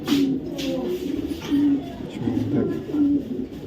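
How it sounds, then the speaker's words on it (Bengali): A female Mili racer pigeon cooing in low, repeated throaty bursts, close by, with shuffling and a person talking over it. "একটা মিলি রেসার একটা মাদি কবুতর"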